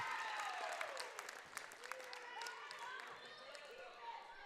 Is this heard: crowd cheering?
yes